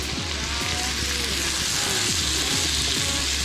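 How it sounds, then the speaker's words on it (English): Carrots and onions frying in a big wad of butter, a dense continuous sizzle and crackle heard close up, without speech. "start putting a big wad of butter in to cook your carrots and your onions in"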